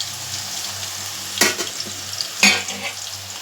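Green chillies and curry leaves frying in hot oil, a steady crackling sizzle with two sharp louder bursts of spitting as they hit the pan, close and alone.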